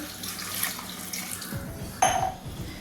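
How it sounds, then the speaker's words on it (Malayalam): Water runs and splashes into a metal pot of lentil-free sambar ingredients with turmeric powder for a couple of seconds, with a clink of cookware, close by and fairly quiet. "കുറച്ച് വെള്ളം കൂടെ ചേർത്ത്"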